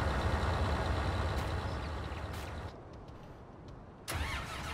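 A Fendt Challenger tractor engine cranks and catches in Farming Simulator 19, rumbling loudly before settling into a quieter idle, with a brief second surge near the end.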